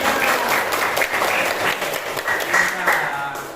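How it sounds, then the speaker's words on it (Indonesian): Classroom students clap together in a brief, lively burst of applause, close and energetic, with voices heard over it. "Iya, benar, tepuk tangan."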